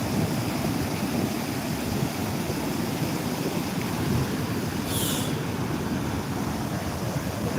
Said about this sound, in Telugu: చూడండి మనకు ఒక జలపాతం లెక్క ఉన్నది